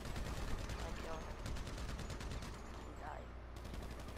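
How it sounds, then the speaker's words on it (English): Rapid automatic gunfire in GTA V, a steady stream of shots over a noisy game mix with talk underneath. "Somebody's trying to shoot me from behind."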